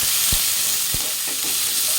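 Chopped onion, garlic and ginger frying in a pan for an egg bharta, with a loud, continuous close sizzle and a few dull thumps of the spatula stirring through it, with no talk.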